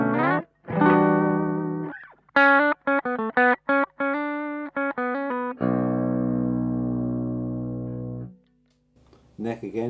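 A Chapman ML1 baritone electric guitar on its bridge pickup plays through an amp set clean but breaking up slightly, with a few sustained notes and then a run of short, choppy staccato chords, followed by a long ringing chord.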